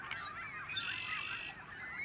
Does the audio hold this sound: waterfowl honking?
yes